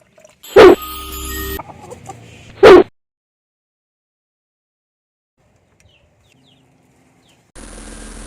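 Rhode Island Red chickens clucking loudly and close in two short bursts, then near silence before a steady background noise returns.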